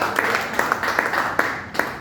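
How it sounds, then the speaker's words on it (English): A small audience in a workplace training session on performance and productivity claps for a participant, a brief, fairly close burst of scattered, uneven hand claps over a steady noisy background. "Kola, can you clap for Kola, please?"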